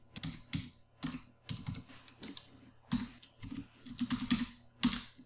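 Fast typing on a computer keyboard, a close run of clicky keystrokes in short bursts with brief pauses, heard alone without any talk.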